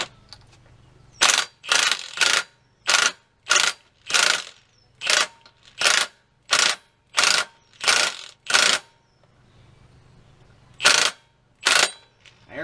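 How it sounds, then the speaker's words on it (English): An impact wrench drives a puller in loud, separate bursts of rapid hammering, about a dozen in a row with short pauses between them and a longer gap near the end; no talk. "get you a nice puller on there with an impact"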